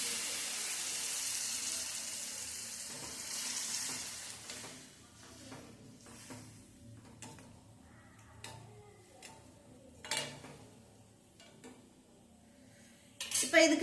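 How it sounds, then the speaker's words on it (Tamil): Water is poured into a pot of egg curry: a steady hissing pour at the start, then quieter clinks and stirring sounds in a kitchen, with no talking. "கொஞ்சம் போல் தண்ணி சேர்த்துக்கலாம்."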